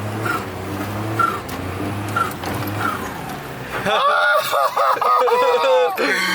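A Suzuki Wagon R drives on icy snow, its engine droning under steady talk, then tires squeal and slide loudly as the car skids near the end.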